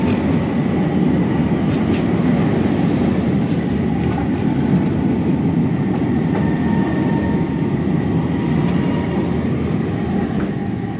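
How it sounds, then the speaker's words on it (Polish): A train crosses a bridge in Porto, a loud, continuous rumble of wheels and carriages with faint metallic clatter that runs steadily throughout, close by. "Nie wiem, czy było słychać, bo pociąg przejeżdżał,"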